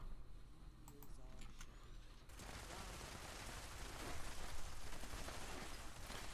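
Gunfire in the Fallout 76 video game: dense, sustained shots roar continuously after a brief quieter opening, loud and close throughout.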